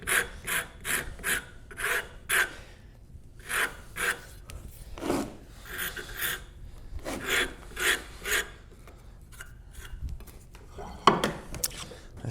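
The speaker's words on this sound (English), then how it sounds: "just a little bit of rasp work and smooth it up." A hand rasp shapes and smooths the wood of a Moravian workbench in a series of close, scratchy strokes, some short and some longer, with brief pauses between them.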